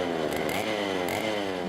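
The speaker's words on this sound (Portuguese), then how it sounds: "Motosserra ligada." A chainsaw runs steadily at a Greenpeace protest against deforestation, held outside a Brazilian agribusiness association meeting in São Paulo, a loud continuous buzzing drone with slight pitch wavers and no talk.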